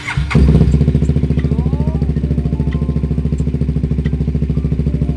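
A cheap big bike motorcycle with a replaced aftermarket exhaust idles loudly nearby, its deep exhaust pulsing in a rapid, steady throb after a short start-up burst.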